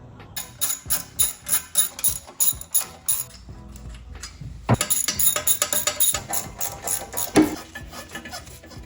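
Ratcheting wrench working a nut off the exhaust manifold of a 1JZ VVTi engine with a budget turbo kit, a steady series of short clicking bursts, close and alone, with a heavier metallic clatter partway through.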